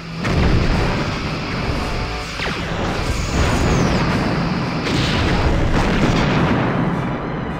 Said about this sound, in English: Loading quantum torpedoes, sir.